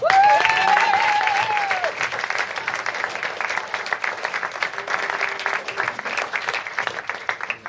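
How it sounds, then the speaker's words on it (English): Wedding guests at a reception applaud the bridesmaids: a loud burst of clapping with a brief high whoop at the start, then settling into sustained, slightly thinner applause that carries on steadily to the end. "so let's please have a round of applause for them all"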